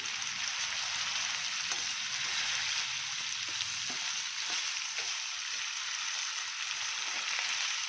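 Onion and other ingredients frying in a pan, a steady, fairly quiet hiss of sizzling oil with a few faint stirring knocks throughout, no speech.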